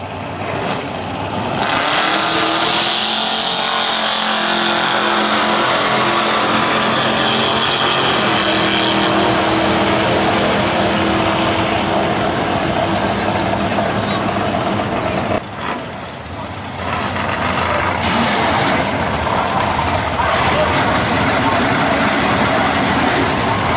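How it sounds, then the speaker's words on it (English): A no-time pickup truck makes a single drag racing pass, its engine roaring loud and steady for most of the run with a brief dip midway, under crowd and track ambience; people talk. "This is a no-time pickup truck going to come up and make a single pass here."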